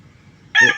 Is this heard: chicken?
yes